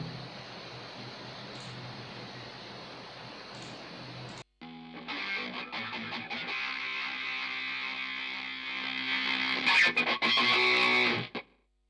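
Electric guitar played through a GTR effects plugin, heavily distorted and buzzy, with a hiss-filled stretch before a sharp cut, then strummed distorted chords building louder before stopping abruptly.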